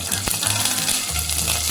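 Green chillies sautéing in hot oil for a Tamil lemon tomato rasam, a steady close sizzle and crackle with a few soft stirring knocks running through the short stretch.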